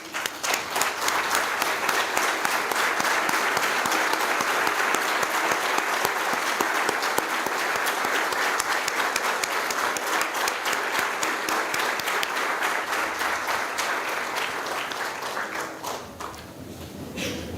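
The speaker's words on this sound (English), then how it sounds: "Kindly stand up and along with me, give him a big clap" Large audience at an engineering institute launch clapping loudly and steadily for about fifteen seconds, a dense wash of applause that thins out at the end.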